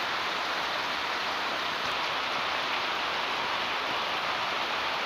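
Steady rain falls outdoors over a rice field, a dense, even wash of drops hitting surfaces that continues unbroken and moderately loud throughout, with no voices.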